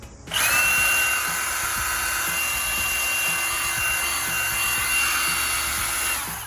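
A Milwaukee M18 cordless hatchet saw cutting wood runs steadily and loud for several seconds, a continuous motor whine with rough cutting noise, starting abruptly and holding level.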